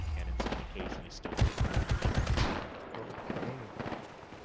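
Multi-cannons in a video game fire a rapid, rattling burst of closely spaced shots at moderate loudness, with a voice speaking around it.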